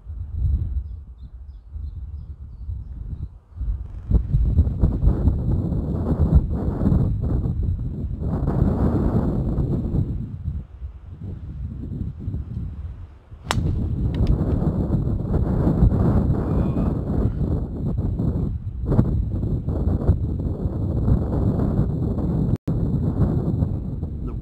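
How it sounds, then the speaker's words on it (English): Gusting wind on a hilly golf course buffeting the microphone in loud broad rumbles that swell and drop across the stretch, with brief calmer lulls between gusts. "Wind's blowing left to right as well, which isn't helping us slicers."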